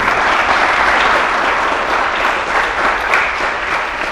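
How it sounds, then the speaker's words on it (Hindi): Dense, loud applause from a studio audience at a Hindi talk show featuring actor Ayushmann Khurrana, steady and unbroken throughout with no talking. "तालियां हो जाए इनके लिए।"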